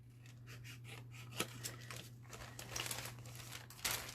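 Scissors trim around small paper cards for an Alice-themed pop-up mini book. Quiet, crisp snips and faint paper rustles repeat at a steady pace over a low background hum.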